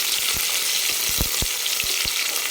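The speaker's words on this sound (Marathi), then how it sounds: "तर कांदा आपल्याला छान एकदम फ्राय करून घ्यायचा आहे सोनेरी कलरवर" Sliced onion frying over high heat in a pan, a steady bright sizzle with scattered low pops and crackles, close and continuous with no voices.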